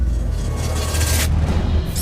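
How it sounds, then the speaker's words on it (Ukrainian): Powerful explosions in occupied Donetsk come through as deep, low booming rumbles that roll continuously, heavy and distant-sounding, with no voices over them. "У окупованому Донецьку та Макіївці прогриміла серія потужних вибухів."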